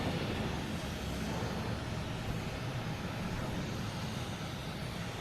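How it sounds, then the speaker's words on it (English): A Southwest Boeing 737 arriving from Baltimore at Boston Logan, a continuous broadband jet roar that stays loud and steady throughout, with a voice talking over it at times. "next to come in is Southwest, coming in from Baltimore"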